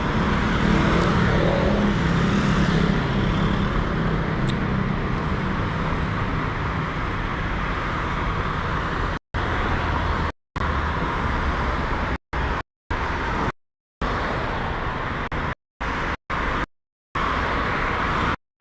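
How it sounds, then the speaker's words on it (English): Road traffic rolls along a street in Athens, Greece, a steady broadband wash of passing cars and engines for most of the stretch, broken late by several abrupt gaps of silence. "we're just waiting for traffic to come by and give us a break"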